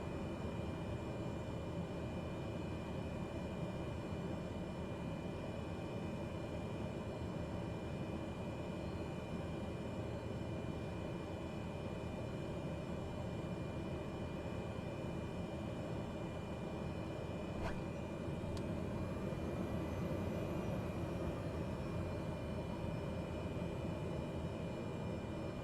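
Simulated airplane taking off in Microsoft Flight Simulator 2020 over Tasmania, a steady droning engine roar holding level throughout with a brief tonal blip near the end, no voices.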